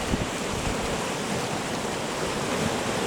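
Waves moving on the water at a beach, a steady, broad wash of surf noise that stays even and fairly loud throughout, with no voices.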